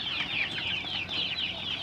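Chickens cluck in a coop built directly over a fish pond, a busy overlapping chorus of short, rhythmic calls that repeats steadily at moderate loudness.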